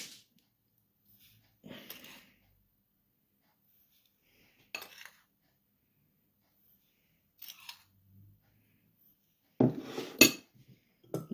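A fork scraping and clinking in a bowl while caster sugar is worked into butter for a fruit cake, a few short separate bursts of mixing with near silence in between.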